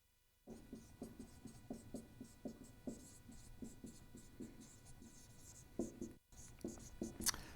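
Chalk or marker drawing on a board in a physics lecture hall on polarization, a steady run of short rhythmic scratchy strokes up and down, fairly close, over a low room hum with no talk.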